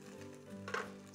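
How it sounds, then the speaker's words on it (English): A soft sizzle of spinach cooking in a hot pan, with a brief louder crackle as it is stirred. "Now I can already hear it starting to sizzle a little bit."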